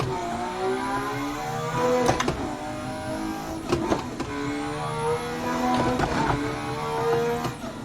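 A car engine in a racing video game set on the Nürburgring revs up and down repeatedly, its rising and falling whine punctuated by sharp shift clicks, steady and fairly loud with no talking.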